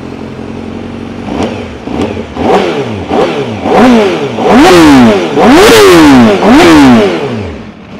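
A Honda CBR1000RR-R Fireblade SP engine revs hard in a series of sharp throttle blips, each climbing higher and louder before dropping back, close and without talk.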